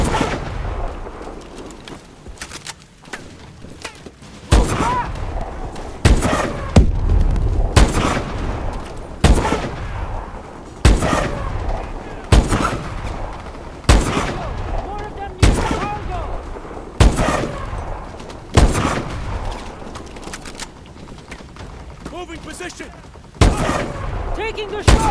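Call of Duty: Advanced Warfare combat with repeated sharp gunshots and bursts of rifle fire, loud and close, mixed with shouted voices.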